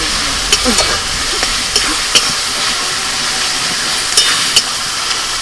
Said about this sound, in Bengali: পেঁয়াজটা একটু ভাজা ভাজা করে নিয়ে